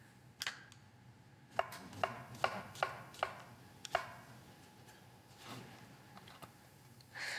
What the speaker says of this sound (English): Gonna cut my mushrooms into strips